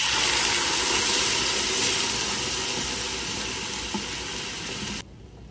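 Beans hitting hot oil with chopped onion in a pan, a loud, steady frying sizzle that slowly fades and then cuts off, with no talking.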